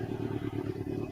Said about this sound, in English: Sounds like a moped.